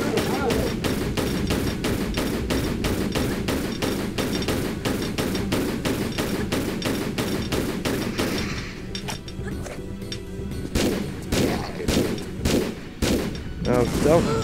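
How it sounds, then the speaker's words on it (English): Rapid gunfire in Tomb Raider III rattles out as a dense, steady stream of shots for about eight seconds, then breaks into a few separate loud bursts with game noise between them. "Oh, you can shoot him when he fires."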